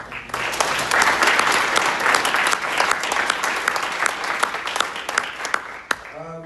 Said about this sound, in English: So I just want to give a round of applause to our incredible coaches